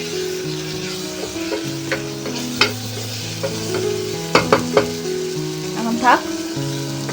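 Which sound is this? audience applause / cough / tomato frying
tomato frying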